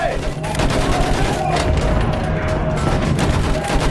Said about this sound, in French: Feu avec cette mitrailleuse. Balayez le sol.